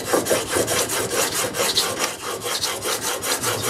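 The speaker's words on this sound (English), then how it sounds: "This whole piece of 400 grit is really wearing down." A blade from a Record No 078 plane is rubbed back and forth on 400 grit sandpaper in quick, even strokes, making a close, rhythmic rasping scrape.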